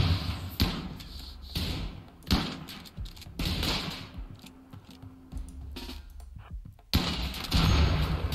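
Improvised explosive devices go off in a video game, a series of heavy booms and thuds arriving in irregular succession, loud and close, with rumbling tails between blasts and no talk over them.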